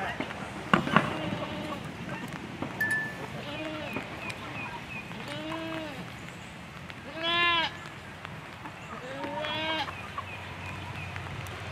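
Goats bleat several times at a farm, their wavering calls spaced a few seconds apart at moderate distance, with people talking in the background throughout.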